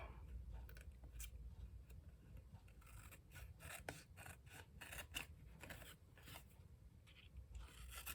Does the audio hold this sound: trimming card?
yes